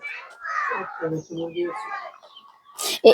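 Egg-laying hens and a rooster on a poultry farm give a few close clucks, mixed in with people talking nearby.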